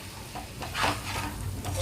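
Chicken sizzles in a pan as chili powder is stirred in, a short burst of frying with scraping stir sounds, fairly quiet and without talk.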